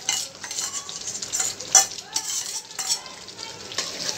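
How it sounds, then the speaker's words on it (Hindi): Yogurt-coated masala, cooking for murga musallam, is stirred in a hot pan; a close, continuous sizzle with repeated spoon scrapes and light metallic clinks. No one speaks. "इसको थोड़े देर और भुनेंगे ताकि दही अच्छे से इसमें मिल जाए।"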